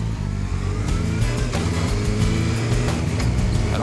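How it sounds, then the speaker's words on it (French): A motorcycle accelerating while ridden two-up, a loud close engine note with rising harmonics as it pulls through the revs, steady and uninterrupted with no speech. "Allez, j'accélère."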